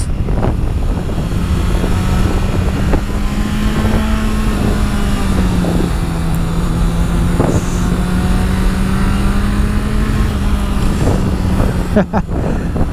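A Honda CBR 650 F sports motorcycle on a test ride holds a steady engine drone, with wind rush loud throughout. A voice talks over it much of the time.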